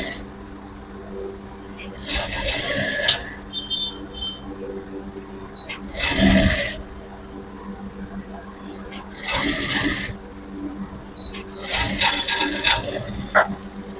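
Sewing machine stitching a blouse neck in short bursts of rapid whirring separated by pauses, close and fairly loud against a steady background hum.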